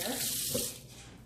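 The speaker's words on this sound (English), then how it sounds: "Let me rinse my hands off" Water runs from a kitchen sink tap as hands are rinsed mid-cooking, a steady close hiss that drops to a softer trickle near the end.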